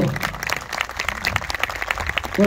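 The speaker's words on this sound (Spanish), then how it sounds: "Un aplauso." A crowd at an outdoor awards ceremony for school and alumni marching bands claps for a prize presentation, a busy, moderately loud patter of hands with voices faintly mixed in.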